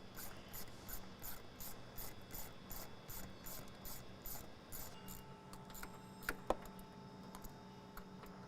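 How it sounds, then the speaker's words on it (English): A hand ratchet steadily backs out 10 mm screws holding the intake tube and airbox on a Nissan Frontier 3.8L, with a quick run of regular ticking clicks followed by a few scattered metallic taps, fairly faint and close. "we're going to take off the 3 screws that hold the intake tube and airbox in"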